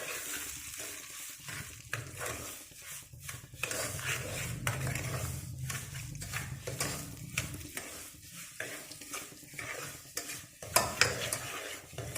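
Semolina roasting in oil or ghee for sooji halwa, with a low continuous sizzle under repeated scraping strokes of a spoon against the pan, close and steady, with no talking.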